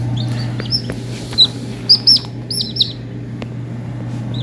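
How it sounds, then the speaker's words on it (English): Newly hatched baby chicks peep in short, high, bright chirps, several birds calling close by in scattered bursts over a steady low hum in a small indoor homestead brooder, with no talk. "There's some cute little chicks."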